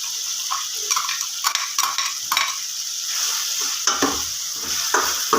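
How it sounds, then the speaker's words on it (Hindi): Onions and green chillies sizzle loudly in a hot pan, with a steady frying hiss and repeated scraping and clinking as a utensil stirs them, close and continuous. "जैसे ही हरी मिर्च और प्याज इसमें शामिल किया है"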